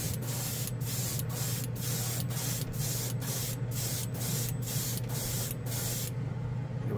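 Color shift paint going on in one quick coat from a spray can or gun, a steady close hiss broken by short regular pulses for about six seconds before it stops, with no talking.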